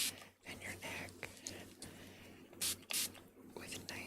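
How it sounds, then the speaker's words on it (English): A spray bottle of cool water misted over bare legs and arms in a quiet ASMR setting, giving a few short hissing spritzes in close-up with soft rustling in between. "you could just spray your legs and your arms"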